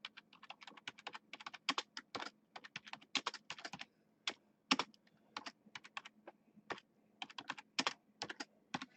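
Typing on a computer keyboard makes irregular bursts of quick, close clicking keystrokes with short pauses between runs, over a faint steady background hum.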